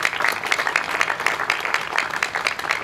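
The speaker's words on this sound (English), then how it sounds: "Please give them a round of applause as well." An outdoor crowd at a park revitalization event claps for financial supporters, steady and moderately loud for about three seconds.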